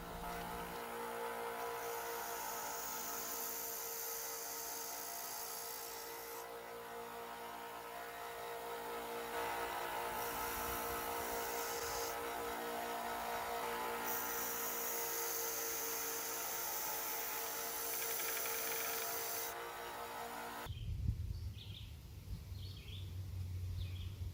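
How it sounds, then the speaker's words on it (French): Belt sander finishing a forged steel spearhead, a continuous loud whirring grind that holds steady for about twenty seconds with shifts in pitch as pressure changes, then cuts off abruptly into quieter shop noise. "Il ne reste maintenant plus qu'à utiliser la sableuse à courroie pour finir la finition."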